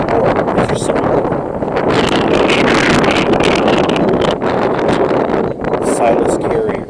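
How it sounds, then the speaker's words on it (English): Strong wind roars into the microphone in continuous heavy buffeting, nearly unbroken from start to finish. "I know it's windy."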